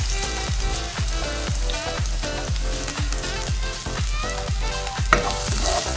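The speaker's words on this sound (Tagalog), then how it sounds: "Maglagay na tayo ng oil. Ihulog na natin ang ating bawang." Garlic drops into hot oil in a heated pot and fries with a steady, loud sizzle, broken by a regular series of sharp clicks and scrapes as it is stirred, with no talking.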